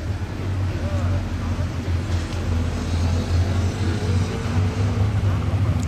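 A Bugatti Chiron Sport pulls away with a deep, steady engine rumble that holds at a constant loudness, backed by broad outdoor noise.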